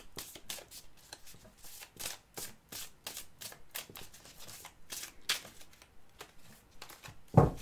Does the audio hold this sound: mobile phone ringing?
no